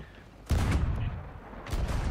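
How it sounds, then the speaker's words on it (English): Cannon fire in the pirate game Sea of Thieves gives two heavy booming blasts about a second apart, loud and close, each followed by a rumbling tail. "Oh, a cannon hit."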